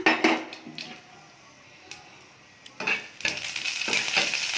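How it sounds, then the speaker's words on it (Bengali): Oil sizzles and crackles as mustard seeds and dried red chillies fry, with scraping stirs in a wok; a quieter stretch in the middle before the frying surges again. "এবার কড়াইতে তেল দিয়েছি, শুকনো লঙ্কা আর সর্ষে ফোড়ন দেওয়া হচ্ছে।"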